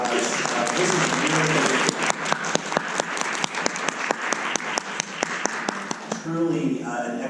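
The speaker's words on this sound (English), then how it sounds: "let's give a quick round of applause" An audience at a community panel event applauds, a dense wash of clapping that builds and fades before a voice resumes speaking near the end.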